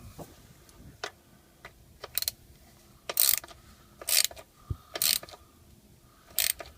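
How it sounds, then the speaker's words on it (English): A ratchet clicks in short, separate bursts while snugging down transmission pan bolts on a Dodge Durango, close and crisp with quiet pauses between each run of clicks. "Now we're going to grab our ratchet and John's going to snug these things down and get them tight."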